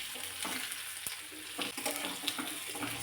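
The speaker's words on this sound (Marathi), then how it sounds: "असं अधूनमधून पलटी करतच वांगी चांगली 1-2-3 मिनटं भाजून घ्यायची" Masala-stuffed brinjals roast in a pan over a low gas flame, turned now and then, giving a soft continuous sizzle with light scraping and stirring knocks scattered through.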